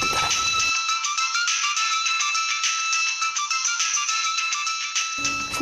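A mobile phone ringtone plays for an incoming call in a Bengali TV serial scene, a loud melodic electronic tune sounding continuously for about five seconds, alone between brief background moments at the start and end.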